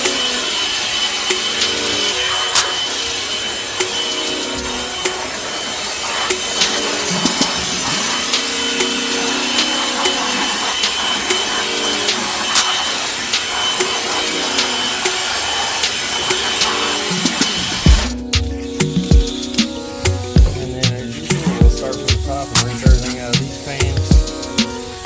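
Compressed air blasts debris out of a water source heat pump unit at an industrial site, a loud, steady hissing roar lasting about eighteen seconds before shifting to a rougher, choppier blowing with rattling bursts.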